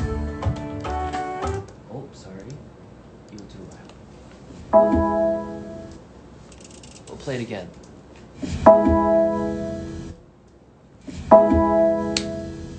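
BMW electric car start-up chimes play back as several distinct tonal bursts with synthetic, harmonic tones separated by pauses, and someone speaks between them.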